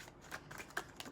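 Tarot cards being shuffled, with quick irregular papery riffles and soft snaps, close and fairly quiet.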